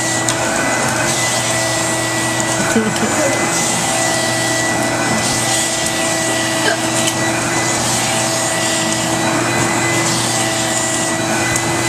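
A vacuum cleaner runs steadily at close range, a constant loud whine and hum with small bumps and rattles.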